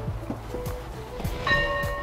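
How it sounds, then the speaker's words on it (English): A few dull knocks and clunks, then an 1881 church's old doorbell chime rings out once and lingers with a bright, sustained tone. "Let's test the doorbell."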